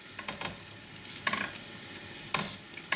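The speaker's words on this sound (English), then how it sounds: "I'm gently stirring it. I want the spices to fry" Hot spice paste frying in a pan with a steady low sizzle, broken by a few sharp scrapes and clacks as a utensil gently stirs it; close and fairly quiet.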